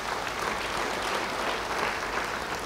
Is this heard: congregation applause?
yes